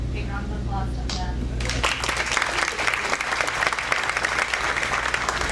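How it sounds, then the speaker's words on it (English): Banquet guests at a Cambridge High alumni dinner give a big round of applause to scholarship donors. A voice is heard briefly first, then loud, dense clapping from the room continues steadily. "big round of applause to them"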